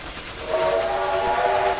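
A train in the Trainz railway simulator game: a rolling rail rumble, then a sustained horn blast that comes in partway through and holds loud to the end.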